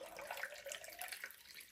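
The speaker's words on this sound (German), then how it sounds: "Zuerst nehmen wir uns eine große Schüssel, 400 Milliliter lauwarmes Wasser." Lukewarm water pours steadily into a large bowl for spelt baguette dough, a continuous bright splashing stream running alone for the whole moment.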